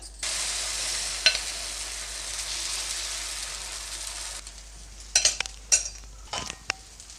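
An egg omelette fries in a tablespoon of oil in a pan, a bright hissing sizzle that drops off midway, followed by a few clattering spatula scrapes close by.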